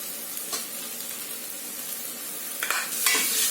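Ginger garlic paste being stirred and fried with onions already sautéed soft, giving a steady soft sizzle with a few scraping stirs that grow louder toward the end.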